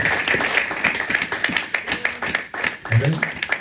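Congregation in a church service clapping in rhythm during worship, steady repeated claps close and fairly loud, with voices and talk mixed in.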